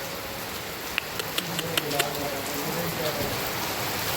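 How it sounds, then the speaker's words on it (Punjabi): Rain patters steadily on a surface at a fair, with a few sharper drops tapping close by and faint voices in the background. "ਇੱਕ ਮਿੰਟ 'ਚ ਹੀ ਆ ਗਿਆ ਮੀਂਹ ਦੇਖੋ"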